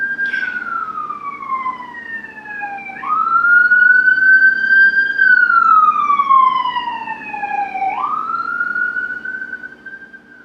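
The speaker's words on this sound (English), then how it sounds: "here we go with the sirens" Emergency vehicle sirens wail on a Chicago street, a loud, close wail that slides down in pitch, then jumps back up and slides down again over several cycles, steady and uninterrupted with no voices.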